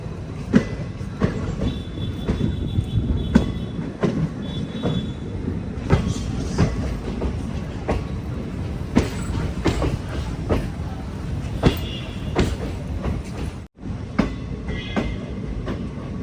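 A sleeper class special train from Vijayapura to Mangaluru Central, hauled by a WDG4 locomotive, rumbles along steadily with rhythmic clickety-clack wheel beats and occasional faint squeals, heard from inside the coach.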